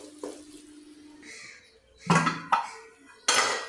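Moong dal stirred and mixed in a pot over low heat, giving a few scraping, clattering bursts of spoon against metal between quieter stretches, close and moderately loud with no talking.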